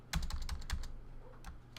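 A few quick keystrokes on a computer keyboard, soft close clicks in a short uneven burst and then a couple more taps.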